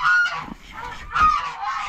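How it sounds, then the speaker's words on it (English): Several loud, nasal honking quacks from call ducks close by, repeated in bursts over two seconds with short pauses between calls. "I moved the call ducks over here."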